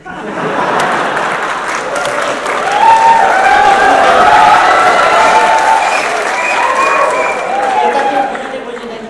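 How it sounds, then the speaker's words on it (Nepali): An audience at a political speech claps in sustained applause, a dense crowd patter that swells in the middle and then eases off, with a few scattered voices mixed in. "त्यस कारण त्यताकोले ताली पड्काउनुहुन्छ, यताकोले एकछिनपछि ताली पड्काउँछ।"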